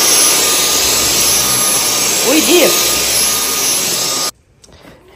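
A household vacuum cleaner runs steadily with a loud broadband roar and high whine, a brief rubbing scrape partway through, then cuts off near the end; a voice shouts briefly over it.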